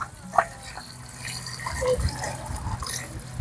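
Water is poured into a pot of cane toad soup with banana heart, a close trickling and splashing that builds steadily over a few seconds, with a brief drip-like plink near the start.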